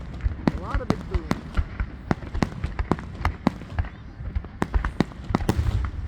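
Dense Fourth of July fireworks barrage: repeated loud booms and sharp cracks fire every fraction of a second, with crackling trails between blasts and faint voices behind.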